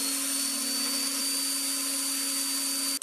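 A drill bores a depth-limited hole in a metal part for a homemade soldering iron, with a ruler held by magnets as the depth guide. A steady, continuous whine holds for about three seconds, then cuts off.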